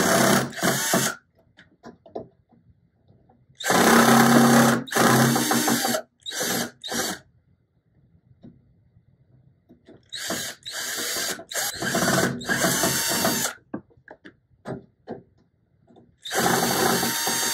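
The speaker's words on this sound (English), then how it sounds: "I had to get my drill." An electric drill takes screws out of a Procolored L1800 DTF printer during an upgrade, with loud whirring bursts of a second or two separated by pauses and quieter clicks.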